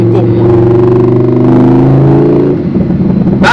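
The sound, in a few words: Lamborghini Huracan engine revving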